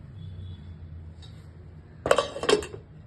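Two quick metallic clanks as a lid is set onto a pot of simmering fish gravy, after quiet background hum.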